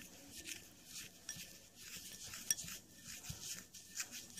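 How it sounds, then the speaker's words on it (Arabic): A spoon stirs honey with other ingredients in a bowl, giving soft, steady scraping and faint clinks against the sides, quiet and close. "غادي نحاول ناخذ الملعقه ديالي باش نخلط جميع المكونات"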